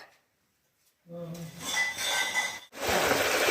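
Pots and dishes clatter and clink in a home kitchen during festival cooking. The bursts are close, separated by a brief silence, with a voice talking over them.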